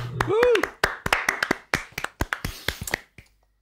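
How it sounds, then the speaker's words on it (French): Amid a French gaming chat, a handful of sharp, separate claps ring out close by in an uneven burst, following a brief rising squeak and fading into silence, with voices briefly present. "Ça va être un applaudissement."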